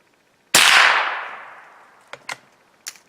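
A .22 caliber rifle firing CCI Mini Mag rounds: one sharp, loud shot with a long ringing decay, then two small metallic clinks or target hits about two seconds later.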